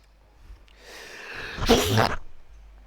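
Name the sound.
sneeze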